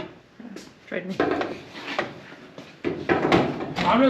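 Door of a Plymouth coupe under mock-up for a trailer race project, handled with rubbing, clunking and creaking sounds close by, while people talk over it.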